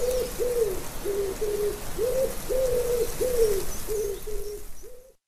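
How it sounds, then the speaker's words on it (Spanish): Doves coo in a steady series of about ten soft, low, rounded calls, evenly spaced and fairly close over a faint background hiss, with no talking. "El canto de las palomas."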